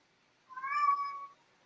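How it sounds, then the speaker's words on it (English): A cat gives a single clear meow lasting under a second, close and fairly loud against a quiet background, with no talking. "We do hear some cat."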